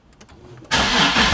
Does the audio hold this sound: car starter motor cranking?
yes